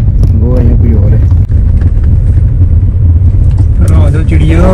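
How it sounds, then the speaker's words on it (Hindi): A black car drives past on a rural farm road, heard as a steady low rumble with wind buffeting the microphone, while people talk nearby throughout. "वो सामने एक काले रंग की कार जा रही है"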